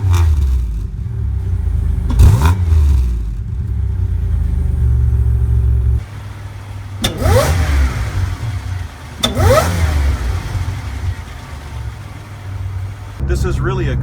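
A supercharged 1997 Buick Regal GS engine runs and drives, with a low rumble under a steady engine note and several rising revs as the car accelerates. Someone talks in the cabin over it.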